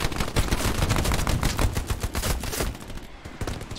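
Dense, rapid gunfire from the World War II shooter Hell Let Loose, with loud overlapping automatic bursts and shots rattling continuously at close range.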